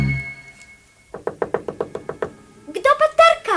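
Steady series of about ten sharp knocks on a door in a told folk tale, evenly spaced and fairly close, after a held tone, then followed by a voice speaking.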